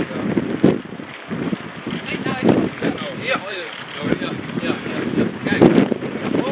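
Gusty wind buffets the microphone in bursts at the opening of a windmill in Oeffelt, loud and close, with short Dutch remarks from people nearby.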